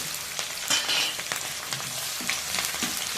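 Sliced onions fry in hot oil with biryani masala in a kadai, crackling and sizzling up close with a few sharp spatters and stirring scrapes.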